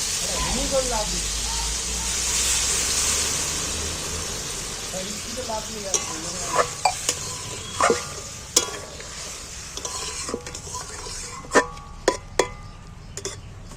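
Water poured into spice masala frying in a pan hits with a loud burst of hissing sizzle that fades into spoon scrapes and clicks of stirring. A voice talks briefly near the start.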